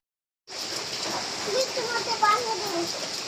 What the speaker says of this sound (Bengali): দেখো না কত বৃষ্টি হচ্ছে সারাদিন